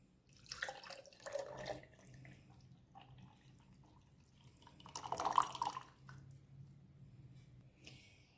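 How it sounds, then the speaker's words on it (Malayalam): Chilled beetroot syrup poured into a jar, a soft liquid trickle with splashy bursts near the start, middle and end over a quiet room. "നമുക്കിതൊരു ജാറിലേക്ക് ഒഴിച്ചു കൊടുക്കാം."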